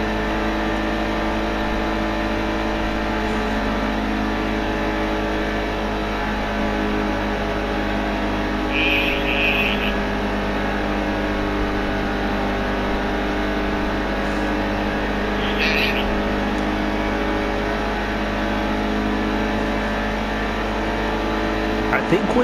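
NASCAR Heat 2 race trucks drone steadily at high speed, a loud constant engine roar that holds flat throughout with only small shifts in pitch.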